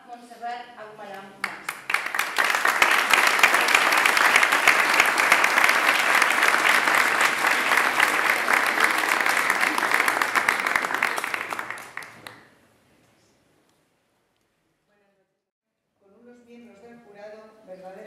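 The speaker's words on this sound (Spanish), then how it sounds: "Un aplauso a Montserrat Aguarán." An audience at a literary awards ceremony applauds warmly, a dense sustained round of clapping lasting about ten seconds before stopping abruptly; a voice speaks briefly before and after.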